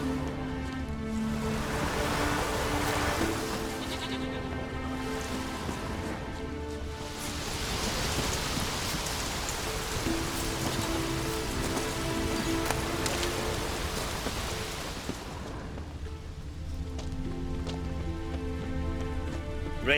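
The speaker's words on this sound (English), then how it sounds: "Raining fucking buckets." Heavy rain in The Witcher 3: Wild Hunt pours steadily in a dense, constant hiss, with water splashing and a low rumble beneath.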